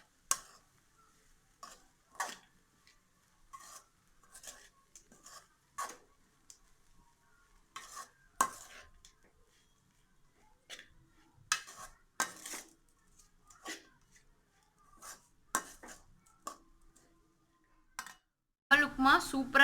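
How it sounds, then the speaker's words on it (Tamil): Upma made from poha being stirred in a pan, a spoon scraping and clinking against the metal in scattered, irregular bursts, fairly faint and close, with a louder clatter at the end. "நல்லா கலந்து விட்டுக்கலாம்."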